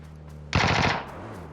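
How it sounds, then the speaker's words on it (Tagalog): Gunfire in the PUBG battle royale game, a short sharp burst of several rapid shots, loud and close, standing alone after a quiet moment. "Katol, bumaril ka!"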